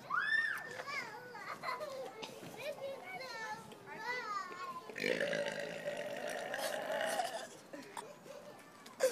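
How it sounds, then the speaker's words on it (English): A long, loud burp rumbles out in the middle of a noisy stretch of children talking and playing, with excited young voices before and around it. "Burp."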